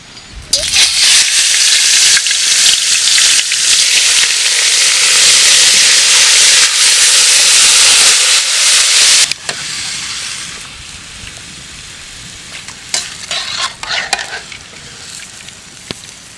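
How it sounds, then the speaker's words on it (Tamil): Mutton pieces dropped into hot oil for a village-style curry, a loud roaring sizzle that hisses steadily for about nine seconds, then settles to a quieter crackling fry with occasional pops and stirring clatter. "எண்ணெய் காஞ்சிருச்சு, கறி சேர்த்துப்போம்."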